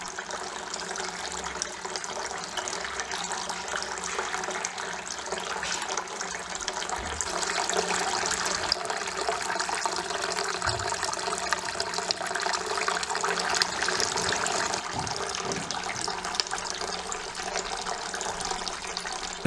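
A Winslow garden fountain spills water over its spill points in a continuous, fairly loud splashing rush that stays steady throughout, with no voices.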